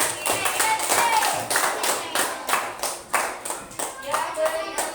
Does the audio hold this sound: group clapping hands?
yes